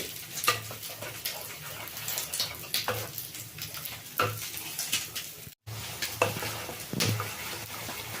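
Carrot halwa simmering in milk and ghee with cardamom, a steady soft sizzle and bubbling broken by scraping stirs and spoon clinks against the pan, with a brief gap midway and no talk.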